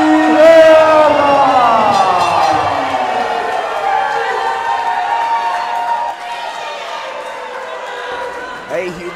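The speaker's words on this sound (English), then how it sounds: "A humongous ovation." A big crowd roars in ovation at a boxing event, Richard Rivera vs Juan Celin Zapata at Christy Martin's Battle at the Beach, loud sustained cheering that slowly fades while an announcer talks over it.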